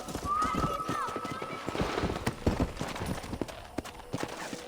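Horses at a ranch corral in the video game Red Dead Redemption: dense hoof clip-clops and a neigh close by, with other game sounds and a voice speaking over them.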